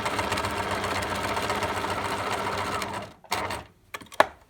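A sewing machine stitches fabric for a face mask in a continuous, fast mechanical whir that stops after about three seconds, followed by a short burst and a few handling clicks.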